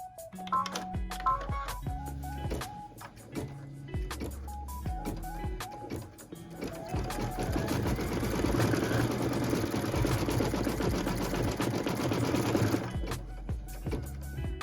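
A sewing machine stitches quilting on a pieced quilt block, its fast, even motor whir running for several seconds, close and steady, after a stretch of quieter background tones.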